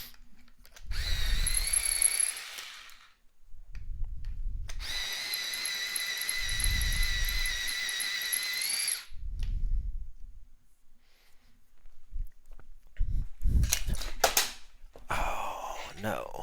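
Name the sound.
sharpener sharpening a colored pencil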